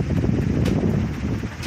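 A micro wind turbine spins with three new black Thermodyne blades, 74 inches long, giving a steady, close whooshing whir under rough wind noise throughout, with no voices.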